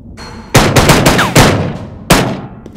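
Loud close bursts of automatic gunfire in a World War II virtual reality shooter, a rapid string of shots followed by a brief pause and another sharp shot with ringing decay.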